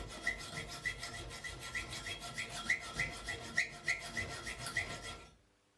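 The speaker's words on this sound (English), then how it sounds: "You can cut the iron bars by using an angle joint as guide for the saw." A hand saw cuts iron bars held against an angle-iron guide, its steady back-and-forth rasping strokes repeating close and evenly, then cutting off into silence at the end.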